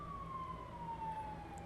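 An emergency vehicle siren during the Los Angeles wildfires wails in a slow falling tone, moderately distant and steady, over faint road noise with no talk.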